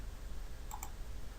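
A computer mouse gives a quick double click, two faint sharp ticks close together over quiet room hiss.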